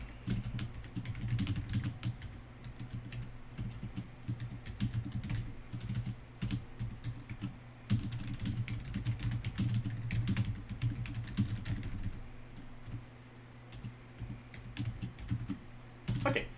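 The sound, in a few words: typing code on a computer keyboard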